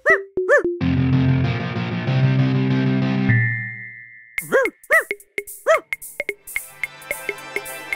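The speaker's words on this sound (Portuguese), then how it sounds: "A banda de rock." Cartoon rock band cranks out a sustained, heavily distorted electric guitar chord, then gives way to quick ringing plucked notes and cartoon effects, loud and up front.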